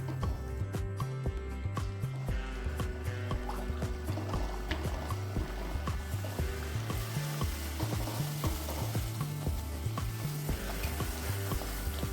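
Luchi puff up as they deep-fry in hot oil, giving a steady bubbling sizzle with light splashes. A rhythmic musical beat plays beneath it throughout.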